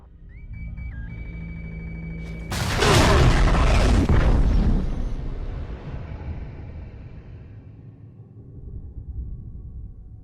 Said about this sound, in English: Detonate the tunnel!